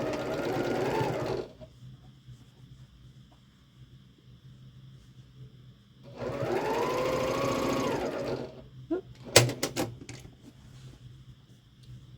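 A sewing machine stitching a quilt block whirs in two bursts, each lasting about two seconds, with quiet pauses between them, followed by a few sharp clicks near the end.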